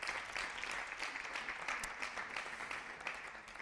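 Crowd clapping for competitors at a 2018 televised mixed team bowling event, a continuous even wash of applause from a large audience, moderately loud and unbroken.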